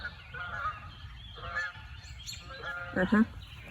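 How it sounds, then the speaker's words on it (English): Geese honk repeatedly at a distance, several overlapping calls scattered across the moment, fairly faint against a quiet outdoor background. "also distracted by the geese"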